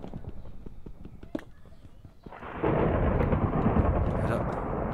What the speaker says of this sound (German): Oder ist einfach nur ein normales Gewitter?